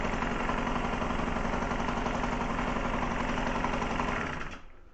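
A Solex 5000 moped engine idles steadily without revving, producing a close, even, rapid putter that holds constant before tapering off at the end as it shuts down.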